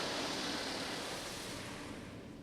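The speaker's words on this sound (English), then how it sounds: "Nope, now a spot-free rinse." A spot-free rinse from the high-pressure arm of a poorly maintained PDQ LaserWash G5-S sprays a car, a steady loud hiss of water that fades slightly toward the end, with no voices.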